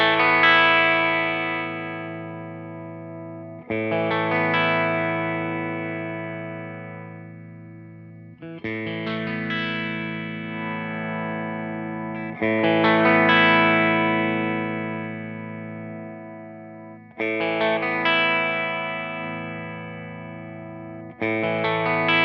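Electric guitar through a Yerasov PD-7 Pterodriver tube preamp pedal plays five or six sustained, overdriven chords. Each rings out and decays while the equalizer is swept, so the tone shifts from chord to chord. There is no talk.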